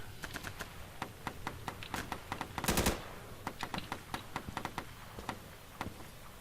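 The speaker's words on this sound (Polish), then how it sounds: "Słyszę strzały." Rapid bursts of sharp gunshots in irregular volleys, with one louder, sustained blast partway through, from the first-person shooter Insurgency with no talking.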